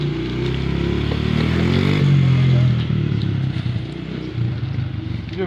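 A motorcycle engine runs nearby and revs, holding a loud steady drone that rises in pitch midway. Voices and some clatter are heard around it.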